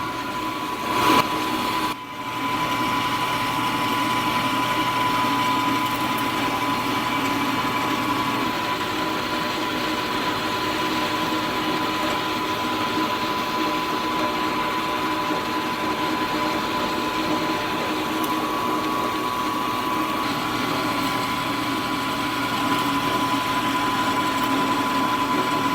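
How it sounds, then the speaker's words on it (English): A milling machine runs steadily with a constant motor hum and a high whine while drilling into metal, no voices present. "I'm going to drill it."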